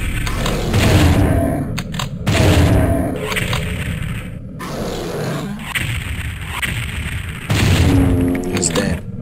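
Heavy booming gunshots and blasts in the Doom 64 video game come in loud bursts with brief gaps between them, with a voice talking over the action.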